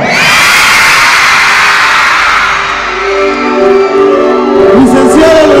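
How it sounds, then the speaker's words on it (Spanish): A large crowd at an anniversary event shouts and cheers loudly, a sustained roar of mixed voices and whoops filling the space, with a voice rising over it near the end. "Pues si están segurísimos, quiero escuchar un fuerte grito."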